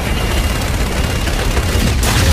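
Aircraft gun run in the Call of Duty Infinite Warfare space battle: a loud, dense, continuous roar of rapid gunfire and blasts that keeps going with no pause for the whole stretch.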